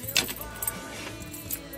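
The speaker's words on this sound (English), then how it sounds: "Take the keys," Metal keys jangle in short bursts while a snake keeper unlocks the box of a venomous green mamba, close by and moderately loud, with a brief clink early and lighter rattles after.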